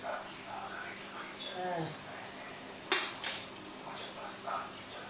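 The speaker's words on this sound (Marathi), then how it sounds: "एक खट्यात सगळं मी मिक्स करणार आहे बघा" Ingredients for chuda mixed together in one pot, bringing a few close clinks and scrapes of utensil against metal, with a sharper clatter near the middle, over a quiet room with soft background voices.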